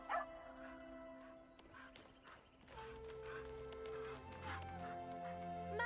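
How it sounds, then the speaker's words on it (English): Dog barking and whimpering in the game Assassin's Creed Shadows, heard as a few short yips and whines mixed into a busy game soundscape with steady musical tones and background effects. "Mother, we found an obedient dog."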